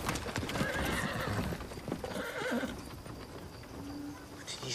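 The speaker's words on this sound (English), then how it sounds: "Did you see those horses?" Horses' hooves clip-clop steadily while a horse neighs and whinnies, with a busy, noisy outdoor background throughout.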